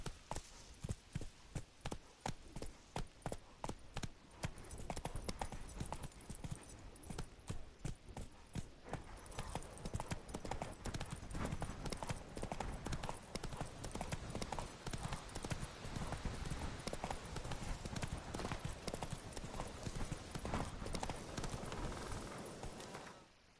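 Roach, the horse in The Witcher 3 video game, galloping in steady rapid hoofbeats, loud and close, with a sustained rhythmic clip-clop filling the whole stretch and no talk.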